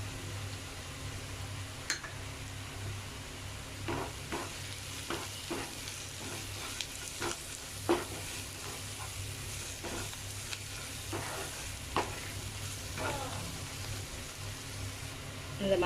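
Onions and roasted, ground masala powder fry in a pan while being stirred, giving a steady sizzle broken by frequent scraping clicks of the spoon, close and moderately loud throughout.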